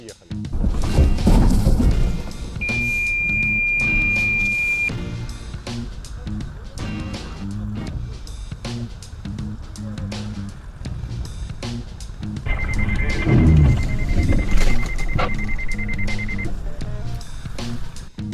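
A Mazda CX-9's SCBS collision warning sounds during a braking test as two sustained electronic tones, one higher and one lower, each held for a few seconds over cabin rumble, with intermittent talking.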